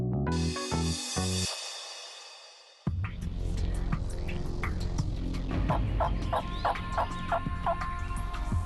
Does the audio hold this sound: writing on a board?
no